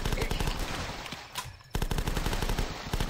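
Dense rapid-fire automatic gunfire from The Last Stand zombie video game, a continuous loud rattle of shots that pauses briefly midway and then resumes at full intensity.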